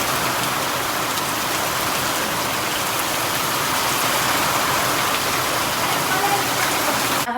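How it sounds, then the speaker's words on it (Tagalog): Heavy rain pours down steadily at dusk as a dense, unbroken hiss of drops on nearby surfaces, loud and constant throughout, with a voice faintly under it. "Ang lakas ng ano, ang lakas ng ulan."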